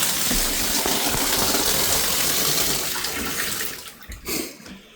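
Water rushing steadily through household plumbing just after the main supply valve is turned back on, a continuous broadband hiss at moderate level for several seconds that thins out and drops away near the end.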